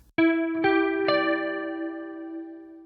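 Three electric guitar notes of a minor sequence enter one after another and ring together, with a chorused, slightly driven tone, sustaining and slowly fading.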